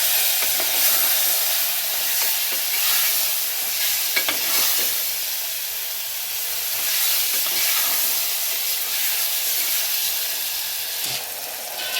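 Chopped tomato pieces sizzle steadily in a hot pan while being stirred, a continuous bright frying hiss with occasional scraping clicks, close and alone without talk.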